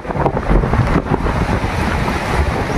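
Strong cold wind buffets the microphone on a long bridge over a river, a loud, continuous rumbling roar that swells and dips with the gusts and carries no talk.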